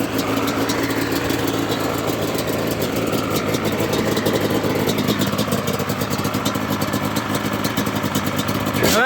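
A Yamaha Banshee ATV with synced carbs and old FMF exhaust pipes idles close by, its two-stroke engine putting out a steady, loud, burbling rattle throughout, with no talk over it.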